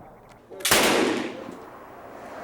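A single loud boom from an old-fashioned firearm at a shooting sports expo, a sharp blast followed by a rumbling tail that fades over about a second.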